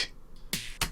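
Sampled snare from a track, a drum-machine style hit full of noise and fizz, strikes twice in quick succession, crisp and bright with a short low body, after a faint trailing tail at the start.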